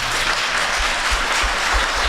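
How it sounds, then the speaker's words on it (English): Audience applause fills a town meeting hall, a steady dense patter of many hands clapping at a constant level throughout, with no speech over it. "Please hold your applause"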